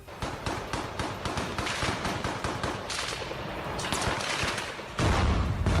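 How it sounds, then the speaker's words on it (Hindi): Gunfire during fighting in Mariupol: rapid, dense bursts of automatic weapons crackling almost continuously, with a heavier blast near the end, loud and close with no talking. "मारियोपोल में चल रही इस जंग का एक वीडियो भी रूस की तरफ से जारी किया गया, जिसमें पुतिन की सेना के जवान अपने दुश्मनों पर रॉकेट दागते दिखाई दिए"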